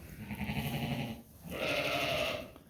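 Sheep bleat in a barn before lambing, two drawn-out wavering calls one after the other, close and clear with no talk.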